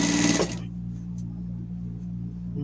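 A sewing machine stitches a denim jeans shirt in a short, fast burst of close, loud whirring that stops abruptly. A low motor hum lingers afterward. Brief speech is heard at the start.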